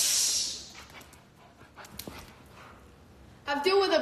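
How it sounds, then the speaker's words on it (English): A dog gives short yelps and rising whimpering whines, loudest at the end, with noisy handling sounds between. "I'm dealing with a pit bull, Rottweiler, everything"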